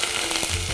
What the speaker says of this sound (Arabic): انا هضيف الزيت وبعدين هضيف البصل